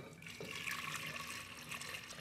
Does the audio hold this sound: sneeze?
no